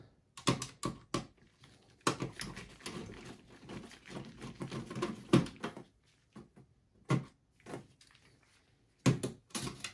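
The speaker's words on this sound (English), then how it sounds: "I'm removing the screws." Screws are being removed from a Lenovo ThinkCentre M93p computer case, with close, irregular bursts of small clicks, scrapes and rattles separated by quiet pauses.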